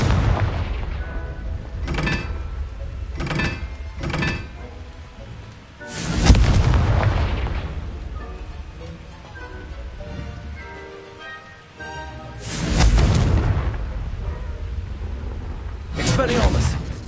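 The Confringo fire spell in Hogwarts Legacy goes off in a series of loud blasts: a quick cluster of three, then a big boom, and two more later, with game rumble and spell noise in between.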